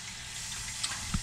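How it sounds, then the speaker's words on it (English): Cold tap water runs steadily over cucumbers being rinsed in a kitchen sink, a continuous close hiss of flowing water with a couple of brief splashy knocks near the end. "now I'm basically just rinsing them pretty much"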